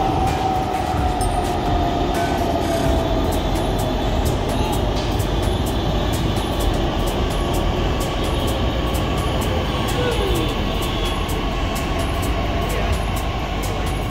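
A Pune Metro train rumbles past steadily and loudly, with a continuous roar and rhythmic rail clatter throughout, no voices heard.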